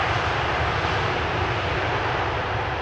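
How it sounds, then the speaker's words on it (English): An airliner landing at Amsterdam Schiphol Airport roars steadily with thrust reversers engaged, a loud, continuous broadband rush with no voices. "reversers all seem to be functioning again"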